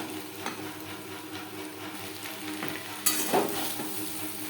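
Papaya and spices sizzle in a hot pan while a utensil scrapes and stirs them around, growing louder partway through; no voices.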